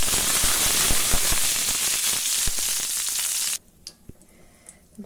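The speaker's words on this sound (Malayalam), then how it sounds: "അപ്പോൾ കരിവേപ്പിലയിൽ കുറച്ച് വെള്ളം ഉണ്ടായിരുന്നു. അപ്പോൾ അതിൻ്റെയാണ് ഈ ഒരു പൊട്ടലും ചീറ്റലൊക്കെ കേട്ടത്." Wet curry leaves dropped into hot oil crackle and hiss loudly, sharp pops over a dense sizzle that cuts off abruptly partway through, leaving only a few faint scattered crackles near the end.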